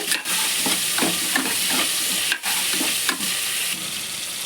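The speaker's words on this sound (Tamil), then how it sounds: "ஒரு 5 பல் பூண்டு, ஒரு 2 தக்காளி நல்லா வதக்கிக்கலாம்." Garlic cloves and tomatoes sautéing in a pan for sambar rice, a steady loud sizzle and fry with repeated stirring scrapes and short pauses, no voices.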